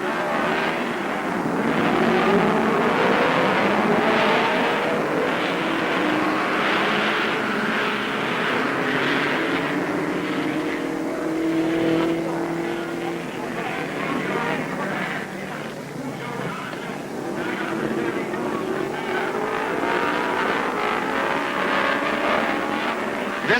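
Race cars at the 1955 Dutch Grand Prix at Zandvoort drone and whine continuously at middling distance, with engine notes rising and falling as they pass in old archival film sound.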